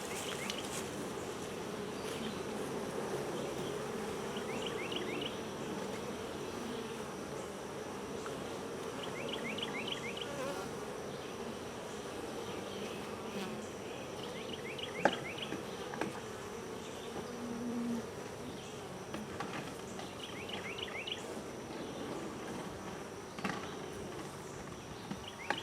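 Honeybees hum steadily inside a nursery nucleus hive, a dense, continuous buzz that stays close and even throughout, with no voices over it.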